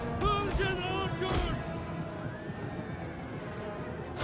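Horses whinny in a Total War: Rome 2 battle, with a couple of shrill neighs in the first second and a half, then a quieter din of hooves and battlefield noise.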